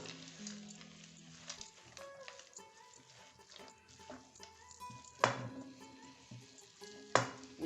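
Carrot halwa sizzles and fries in ghee as peanuts are stirred in, soft crackling under stirring scrapes with two sharp clatters near the end.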